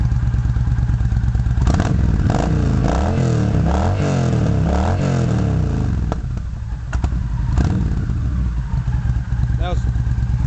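A Yamaha V-Star 1300 motorcycle engine idles roughly and revs up a couple of times, loud and close, with clattering mechanical noise throughout.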